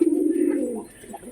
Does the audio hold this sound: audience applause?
no